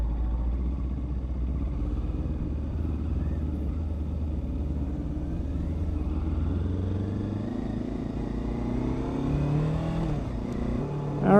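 A Kawasaki Ninja 500 motorcycle pulls away from a gas station meetup with a steady, close engine rumble that rises as it accelerates, and a second engine note climbs in pitch near the end.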